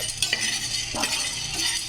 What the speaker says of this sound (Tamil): அதை லேசாக ஒரு இதில் போட்டு வறுத்து வறுத்துருங்க குக்கரை வச்சு வறுத்துருங்க நல்லா